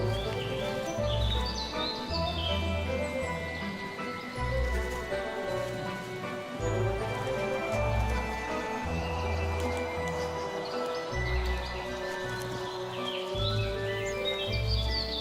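Chiffchaff song from a bush near an airport, bright repeated chirping notes over a steady low rumbling background with pulsing low thuds, birds singing continuously throughout.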